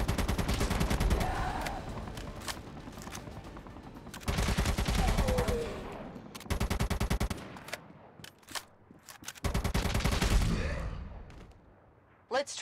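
Zombies come under gunfire in ZOZ: Final Hour, with loud bursts of rapid automatic fire broken by short gaps. A few faint vocal sounds come through between the volleys.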